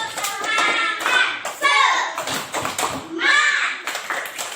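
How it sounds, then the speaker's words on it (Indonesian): Children in a fourth-grade classroom perform a rhythmic spirit clap, sharp hand claps in a patterned beat mixed with their chanting voices, loud and close throughout. "Ayo kita tepuk semangat."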